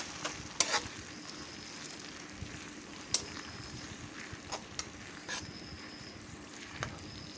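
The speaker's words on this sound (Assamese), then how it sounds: "এতিয়া আদা নহৰু খুন্দাখিনি দি দিছোঁ, ভালদৰে লৰাই বিলাহীৰ পেষ্টখিনি দি দিছোঁ। এইখিনি ভালদৰে লৰাই দিম।" Ginger-garlic and tomato paste frying in a pan, with a soft steady sizzle and intermittent sharp scrapes and taps of a spatula stirring it, fairly quiet overall.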